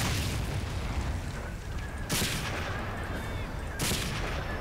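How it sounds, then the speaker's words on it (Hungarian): Tank cannon fire in the World War II shooter game Medal of Honor: Spearhead, two heavy booming blasts a couple of seconds apart over a dense, rumbling din of battle. "Hála Istennek, hogy a kő kibírja a tanknak a lövéseit."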